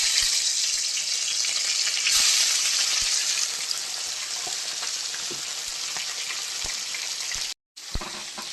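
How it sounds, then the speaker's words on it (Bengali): Prawns fry in hot oil with a dense, steady sizzle close by, broken by scattered pops and crackles and a brief gap near the end before the hiss resumes, with no talk. "চিংড়ি মাছ বেশি ভাজবো না, দেখুন আমি একে একে তুলে নিচ্ছি।"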